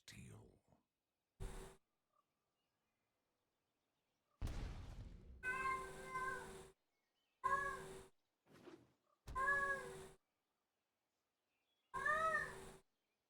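A loud house cat meows repeatedly in separate drawn-out cries, close to the microphone, with pauses of silence and brief noises between them.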